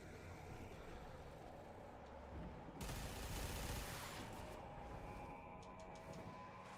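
Gunfire in the Warframe video game: a dense, continuous rattle of shots with a louder burst in the middle, faint and distant under a steady rumbling background.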